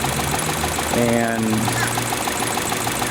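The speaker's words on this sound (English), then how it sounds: "Excessive idling, a lot of vibration there in the motor" A 2012 Chevy Cruze engine idles roughly with heavy vibration, a steady close mechanical drone, with a brief spoken word over it.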